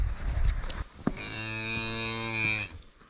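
A yak in the Nepal Himalaya lets out a single long, loud, close lowing moo lasting over a second, preceded by faint rustling and a brief knock.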